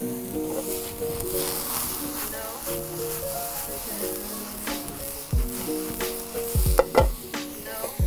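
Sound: mushrooms frying and sizzling in a pan for risotto

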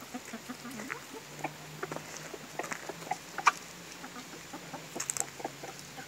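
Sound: chicken clucking

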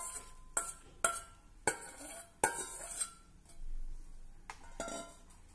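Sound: soaked sago pearls added to a pan with green chili paste

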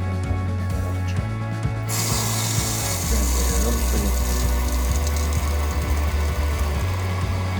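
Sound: tightening adjustment screw on water pump pressure switch

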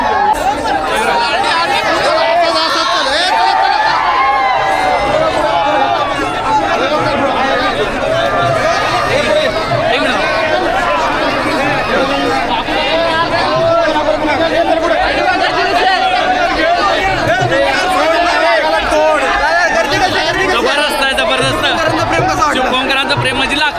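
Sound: crowd chatter of a large gathering

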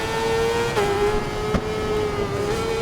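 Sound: Suzuki GSX-R1000 motorcycle engine in Ride 4 video game

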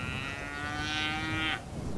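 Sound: cattle mooing on a ranch

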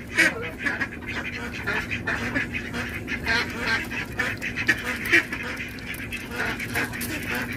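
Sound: geese feeding

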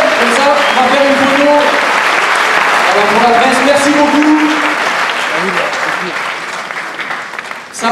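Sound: audience applause

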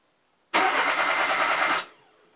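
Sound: car engine starting attempt

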